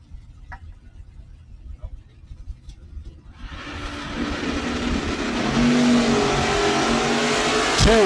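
An '87 Camaro and a '79 Malibu launch at a drag strip in a Northwest shootout, engines swelling from a low idle rumble into a loud, sustained roar with rising revs, while a distant announcer's voice carries over the start.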